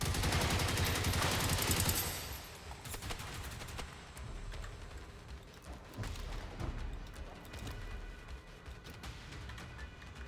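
Guns firing at a tank in the video game Generation Zero, a loud burst of rapid automatic fire at the start, then scattered sharper shots and impacts at a lower level, with no voices.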